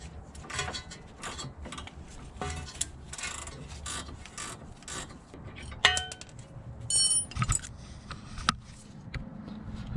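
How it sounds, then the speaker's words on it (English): A ratcheting wrench works loose the sway bar end link nut on a Lexus IS300, with bursts of clicking and metallic clinks as the tool is repositioned, close under light background noise. "You have to hold the Allen steady while you loosen the nut."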